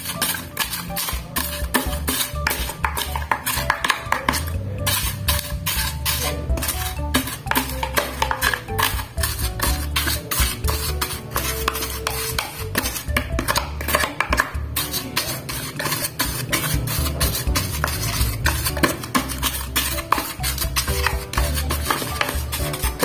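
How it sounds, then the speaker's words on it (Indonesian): Wafers are crushed fine in a bowl to make fishing bait, with a busy run of rapid scraping, tapping and grinding clatter, loud and close, continuing without pause. "Untuk wafernya dihalusin dulu sampai lembut."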